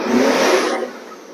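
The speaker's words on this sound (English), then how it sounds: "Rev it when it's cold, because that's what you're supposed to do." Cold Metro 6R4 rally car engine revving, a loud close burst of mid-range roar lasting about half a second before easing off into a quieter trailing whir.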